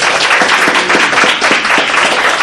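Sustained applause from an audience at a Comrades Marathon send-off event, dense steady clapping for the runners with a few sharper claps standing out, loud and close throughout.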